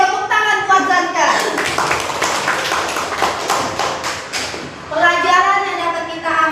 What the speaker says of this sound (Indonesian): Oke, tepuk tangan buat Zanka.